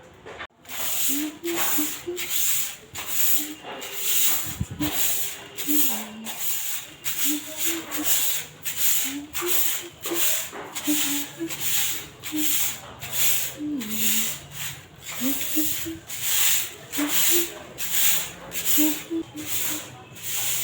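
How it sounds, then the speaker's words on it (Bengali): A broom sweeping in a home kitchen, in steady rhythmic strokes about once a second, each a short scratchy swish, continuing evenly throughout with faint talk now and then. "হাতটা একটুখানি ঝাঁট দিয়ে দিই"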